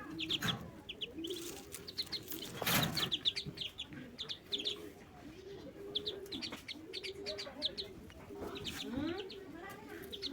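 A mother hen calls to her chicks with repeated soft clucks in an uneven rhythm, close by, while high chirps from the chicks run throughout and a voice speaks briefly.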